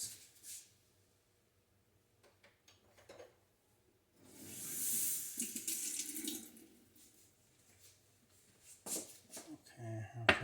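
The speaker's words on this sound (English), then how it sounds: "let's get some water in a clear glass" Tap water runs into a clear glass for a few seconds, a close splashing rush that starts, swells and stops, with quiet handling clatter and knocks on either side.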